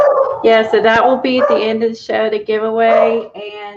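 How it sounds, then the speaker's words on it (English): Two small Jack Russell terriers bark in short, sharp bursts close by, mixed in and overlapping with steady talk from a person speaking throughout. "sorry for my dog barking."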